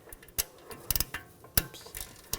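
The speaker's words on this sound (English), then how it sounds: "Get the nut started. Tighten down the nut." A ratchet tightens the axle nut on the front left CV axle of a 2007-2013 BMW X5 3.0L L6, giving short bursts of sharp, close clicks in an uneven rhythm with brief pauses between them.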